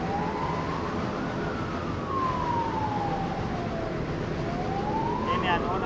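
A distant ambulance siren wails in a slow rising and falling sweep, steady and moderately faint above a constant wash of background noise.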